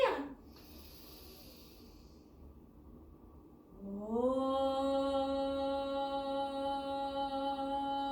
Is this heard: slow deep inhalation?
yes